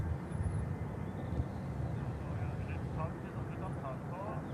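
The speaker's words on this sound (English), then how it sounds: "you can see this particular Vueling 320 laden with the IAEs. Really hear those high-pitched engines." An Airbus A320 fitted with IAE engines idles at Manchester Airport, a steady broad engine roar with a faint high-pitched whine close by, continuous throughout, with a few faint voices over it.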